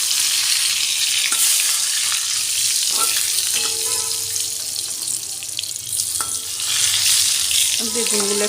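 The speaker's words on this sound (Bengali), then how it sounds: "তেলটা গরম হয়ে গেছে, আমি এরপর নুন হলুদ মাখানো বেগুনগুলো ভেজে নেব।" Salt-and-turmeric-coated eggplant slices fry in hot oil with a steady, loud hiss and crackle, alongside faint scraping and clinks throughout.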